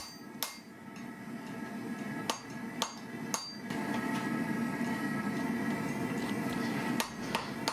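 Sharp metallic hammer blows on thick steel, forging a pirate cutlass guard and pommel, ring out irregularly, several in a row, over a steady background hum, close and loud.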